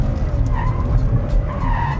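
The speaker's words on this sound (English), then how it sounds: "Turbo cars are hard to drift." A 2019 Kia Stinger with a turbocharged engine drifts on a skid pan, tires skidding loudly and continuously over a low engine rumble, close and sustained throughout.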